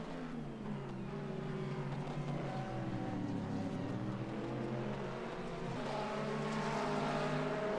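Sports race cars, a Corvette and a Ferrari, exit the Mid-Ohio chicane in a racing sim, engines droning and rising in pitch as they accelerate, a continuous layered whine at moderate distance.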